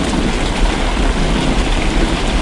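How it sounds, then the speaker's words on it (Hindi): Heavy rain mixed with falling hail roars loud and close, a dense unbroken hiss with low rumbling underneath and no voices. "कुछ ही देर में बारिश के साथ साथ ओले भी गिरने लगते हैं।"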